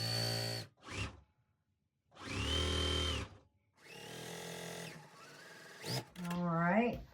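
A sewing machine sews a quilt's J strip in short, loud, whirring bursts with pauses between, and a voice speaks briefly near the end.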